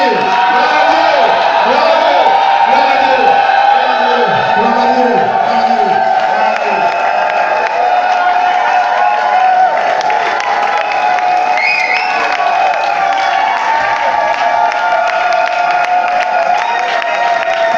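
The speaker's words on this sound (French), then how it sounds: "Nous avons donné une salve d'acclamation à l'Éternel" A church congregation cheers and applauds loudly in a sustained ovation of clapping, shouts and whoops that fills the whole stretch, with voices rising and ringing throughout.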